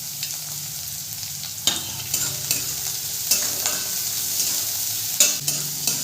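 Chopped onion, ginger and garlic sizzle steadily in hot oil in a pan, with a spatula scraping and stirring through them every second or so; no one speaks.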